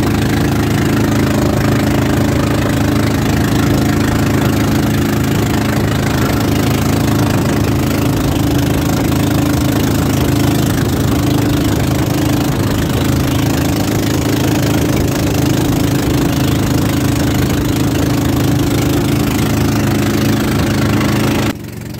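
A Jaguar 18HP outboard engine on a small boat runs steadily at a constant pitch, loud and close, with a continuous droning hum throughout.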